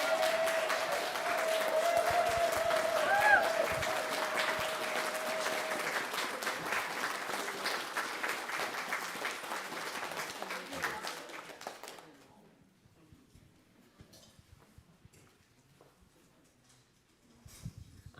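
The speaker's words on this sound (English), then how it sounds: "I want everybody to rise and clap your hands for the work they did." A standing church congregation at a Unitarian Universalist worship service claps together in a sustained, fairly close round of applause that tapers off and fades to near silence after about twelve seconds, with a few stray claps afterward.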